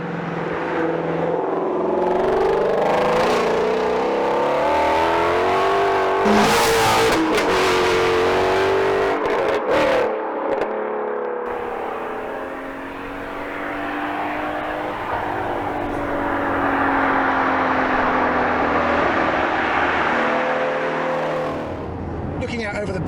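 A Mustang GT350 sports car engine in loud mode rumbles and revs loudly, its pitch rising and falling, while a person talks over it.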